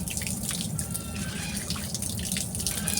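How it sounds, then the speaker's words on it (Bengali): A fresh, large fish head from a beel is scrubbed and rinsed clean in water, giving a steady run of splashing and trickling water with small drips throughout, close and even in level. "তো আমি খুব ভালো করে কষে ধুয়ে পরিষ্কার করে নিচ্ছি।"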